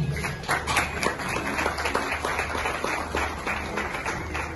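Audience applause welcoming a vice-president to the stage at an international menstrual hygiene day event, dense steady clapping from a room of people, fairly close and continuous throughout.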